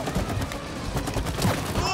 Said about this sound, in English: I'm firing at will. I'm shooting everything.